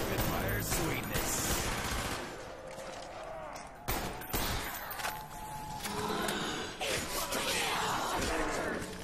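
Rapid gunfire in Call of Duty: Black Ops zombies mode, dense bursts of shots and in-game clatter running continuously under voices talking throughout.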